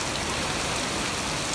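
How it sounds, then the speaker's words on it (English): Heavy night rain pours onto a back porch during a thunderstorm, a dense steady hiss with no distinct thunder clap standing out. "It's raining hard and thundering."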